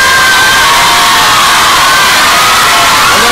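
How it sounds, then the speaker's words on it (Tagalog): A loud studio crowd shouts and cheers continuously for a child dancer on a TV variety show stage, a dense, steady roar of voices with children's shrieks mixed in and no pauses. "Nadinig mo yung sigawan ng tao sa'yo?"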